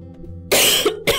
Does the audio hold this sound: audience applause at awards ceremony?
no